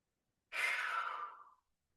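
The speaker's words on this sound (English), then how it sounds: "Take a cleansing breath." A single cleansing exhale during a guided meditation: a soft, breathy sigh that swells quickly, holds for about a second, then tapers away into silence, close and alone.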